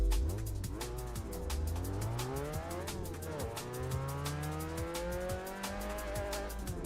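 Race car engine in a racing video game at Silverstone National, revving steadily with rising and falling pitch through gear changes, loud and continuous with tire noise.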